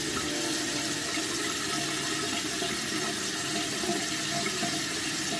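Water runs steadily from a tap into a sink during a face wash, a constant, even hiss with no breaks and no voices.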